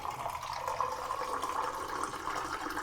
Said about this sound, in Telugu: ఇంకొంచెం వాటర్ వేస్తాను నేను, ఎందుకంటే అవన్నీ బ్యాళ్ళు ఎక్కువ ఉన్నాయి కదా